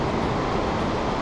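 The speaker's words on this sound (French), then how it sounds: "Une cascade pour finir la journée." A small waterfall along the Annapurna trek in Nepal pours as a dense, steady broadband rush of water, close and continuous with no gaps.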